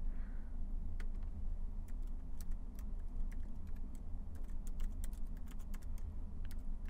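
Keystrokes on a computer keyboard, typed in irregular quick bursts of sharp clicks over a steady low hum, close and fairly faint, with no talking.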